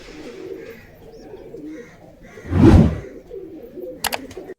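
Low pigeon coos from a backyard flock of Beldanga market birds murmur quietly, broken by a loud dull thump partway through and a couple of sharp clicks near the end.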